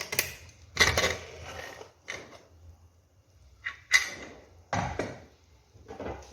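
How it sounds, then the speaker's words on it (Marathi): The metal lid of a pressure cooker holding mutton vajadi is handled and pulled off, giving several separate clanks and scrapes of metal and wood spread over a few seconds, with quiet gaps between them. "तर आपण झाकण काढून बघूया"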